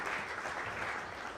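Audience at a community meeting on the future of the Tennessee Performing Arts Center applauding, a dense, steady patter of many hands that is fairly faint and brief.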